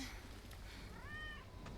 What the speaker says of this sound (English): Ah, kitties.